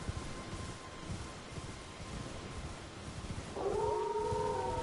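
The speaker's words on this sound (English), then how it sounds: "Oh yeah, the wolves. I forgot about the wolves from the sky." Wolves howling in Elden Ring: a distant low rumble first, then near the end long, clear howls rise and hold, loud against the steady background.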